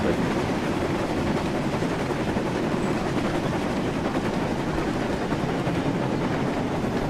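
A train running in a video game, a steady loud rumble with rolling, rattling wheel noise that continues unbroken and close throughout, with no voices over it.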